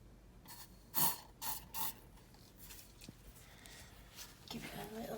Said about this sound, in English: Let's just spray it onto the handle.